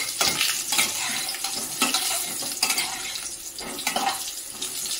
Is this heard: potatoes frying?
yes